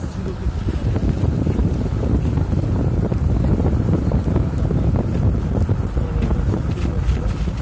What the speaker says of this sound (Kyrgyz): Билинбеген менен каттуу эле жамгыр жаап жатат.